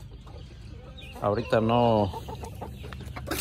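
A hen near her chicks lets out a loud, drawn-out call in the middle of the clip, close by, with quiet farmyard noise and brief talking around it.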